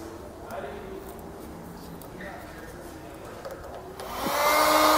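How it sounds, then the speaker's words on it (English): A heat gun shrinking a heat-shrink butt connector on a wire during a truck air suspension compressor install switches on near the end, rising into a loud, steady blowing hiss after a few seconds of quiet background and talking. "We can then come back and heat shrink this down."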